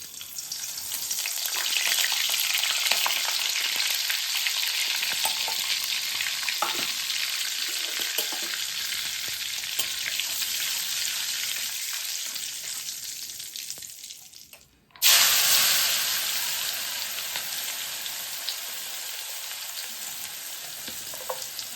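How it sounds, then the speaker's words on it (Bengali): Oil and butter sizzle steadily in a hot wok for paneer bhurji, a loud continuous frying hiss that cuts out briefly mid-way and resumes just as strongly, with no talking. "একটু হালকা লাল করে ভেজে নেব, খুব বেশি কড়া করব না কিন্তু।"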